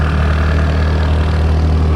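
A motorbike engine running while riding on a paved road near Thak, a steady low throbbing drone, close and continuous with no pauses or talk.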